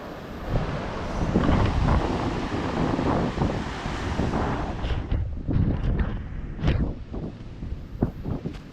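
Sea waves wash in on a Karnataka beach at evening while wind buffets the microphone in a steady roar, with sharper surges and splashes breaking through toward the end.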